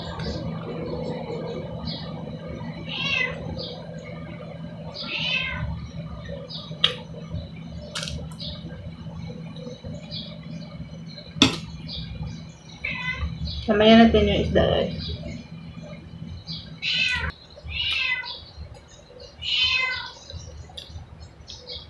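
Repeated short meows from a nearby cat, scattered through the scene while a person talks over them, with light clinking in the background.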